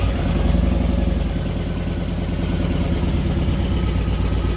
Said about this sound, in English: Start the bike first.